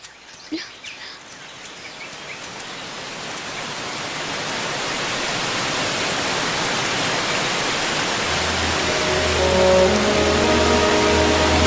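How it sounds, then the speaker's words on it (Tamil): A waterfall rushes as a broad, steady roar that swells gradually from quiet to loud. Faint music enters near the end. "அருவினா உனக்கு ரொம்ப பிடிக்குமே"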